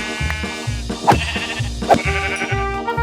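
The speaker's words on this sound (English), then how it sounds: "In frustration, I went on a rampage and killed several sheep." Sheep bleat twice in the Minecraft video game, each a short, wavering cry over a rhythmic, looping background tune.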